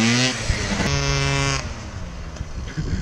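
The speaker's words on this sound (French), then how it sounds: "Oh le scooter comment il chauffe." A small two-stroke engine of an overheating Keeway 70cc big-bore scooter revs high and strained, its pitch holding then dropping off as the throttle eases, close and loud.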